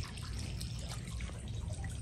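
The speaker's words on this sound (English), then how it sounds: "water fountain, solar water fountain" Water trickles steadily from a solar water fountain with a freshly cleaned filter, a soft continuous splashing and dribbling that stays close and even throughout, with no talk.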